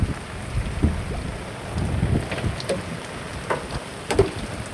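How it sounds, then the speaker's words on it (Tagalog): Heavy rain hissing steadily at sea aboard a fishing boat, with gusts of wind buffeting the microphone and occasional splashes and knocks nearby. "Guys, grabe ang ulan ngayon guys. Lakas oh."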